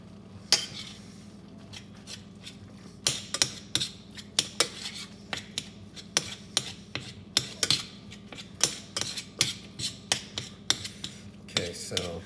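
Meat being mixed for a skillet dish, with irregular clinks and taps of utensil against a pan or bowl, a dozen or more distinct knocks over a low steady hum.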